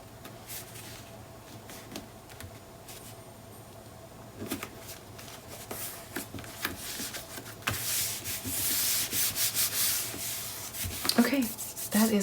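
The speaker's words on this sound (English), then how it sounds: "so you guys don't have to sit and watch me trim papers" Paper being trimmed for a Graphic 45 Fairie Wings mini album, giving repeated close rubbing, scraping strokes that grow louder and denser toward the end, with no talking.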